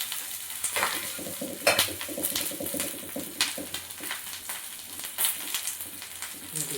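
Rekoch pieces shallow-frying in oil in a pan, a continuous crackling sizzle with repeated quick clicks and scrapes of a utensil, close and moderately loud, with a faint bird cooing in the background.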